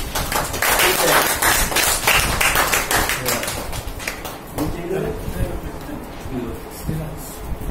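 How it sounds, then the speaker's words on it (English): An audience claps for young children at a magic and motivational talk, a dense burst of hand claps filling the first half before it thins out and a voice takes over. "Clap for these young children."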